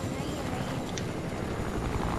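A helicopter whirs steadily in Fortnite, a continuous engine-and-rotor drone that fills the short stretch without a break.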